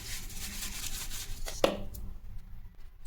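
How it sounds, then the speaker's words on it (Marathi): Ground roasted chickpea (putani dal) flour is sifted through a kitchen sieve for barfi, giving a steady scratchy rustle for about a second and a half. A sharp tap follows, then it fades to near quiet. "हे मी चाळणीने चाळून घेत आहे।"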